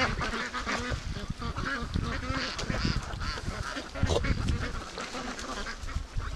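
Free-range ducks swimming on a lake creek quack and call repeatedly in a noisy, overlapping flock, close and loud with constant splashing and chatter throughout.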